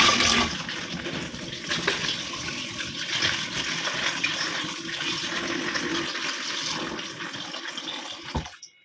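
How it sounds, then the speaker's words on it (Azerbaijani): Water pours and gushes steadily into a container as the soaking water for salted fish is changed, a loud close rush lasting several seconds before stopping abruptly. "biz də balığın suyunu dəyişək"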